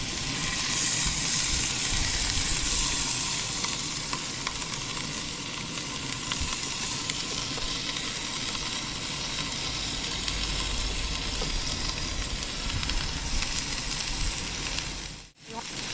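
Philly cheesesteak filling of steak and vegetables sizzles in a pan, a steady loud hiss and crackle lasting throughout with a brief dip near the end.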